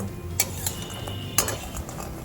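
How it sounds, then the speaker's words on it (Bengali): Bori lentil dumplings fry in hot mustard oil over a medium gas flame, giving a steady close sizzle broken by a few sharp clinks of a utensil against the pan. "রান্নার প্রথমে আমি গ্যাসের উপরে মিডিয়াম ফ্লেমে খানিকটা সর্ষের তেল গরম করে নিয়েছি, তাতে কয়েকটা বড়ি ভেজে নেব।"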